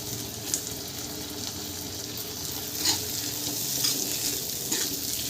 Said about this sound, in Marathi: आता या तेलामध्ये आपण उकडलेल्या शेंगा टाकून घेऊ, म्हणजे शेंगांना पण मसाला लागेल।